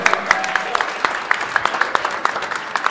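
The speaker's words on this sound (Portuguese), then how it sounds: "Uma salva de palmas pro Tássio lá." Scattered audience applause for Tássio at a live fitness event, with sparse separate claps sounding in a loose rhythm over a busy background across the whole stretch.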